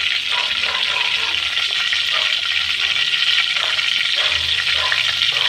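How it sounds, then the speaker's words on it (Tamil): Mustard seeds spluttering in hot oil for a tamarind curry, a dense continuous crackling sizzle, loud and close, with no voices. "கடுகு நல்லா பொரியட்டும்."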